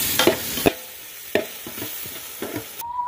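Spices frying and being stirred in a pan for a catla fish curry: a light sizzle with scraping spoon strokes and taps, close and fairly quiet, no talking.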